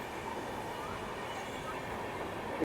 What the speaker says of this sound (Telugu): చూడండి ట్రైన్ వెళ్తుంది,